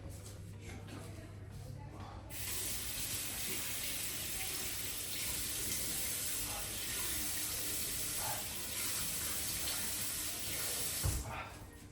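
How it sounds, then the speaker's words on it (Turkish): Water runs steadily from a tap into a sink for about ten seconds while someone washes their face. Splashing shifts now and then, preceded by a brief quieter stretch at the start. "Yüzünü yıkayayım."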